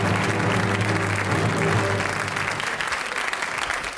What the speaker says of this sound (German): Und Ihr Applaus beim Abmarsch